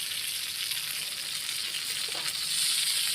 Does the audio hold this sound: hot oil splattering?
yes